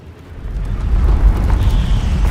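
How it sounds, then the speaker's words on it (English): Explosions in the Guild Wars 2 video game, a deep rumbling blast that swells and keeps booming for a couple of seconds, loud and heavy in the low end, with no talk. "Those explosions exposed some more bloodstones."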